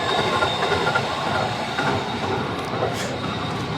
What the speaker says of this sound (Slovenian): ta prijeten zvok tukajšnje železnice, viseče železnice